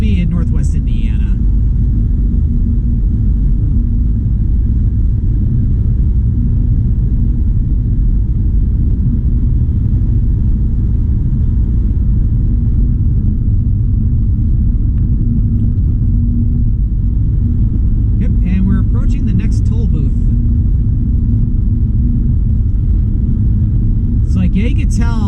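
A car cruises along the I-294 highway south of Chicago, its steady loud road and engine rumble continuous throughout, while someone talks over it at times.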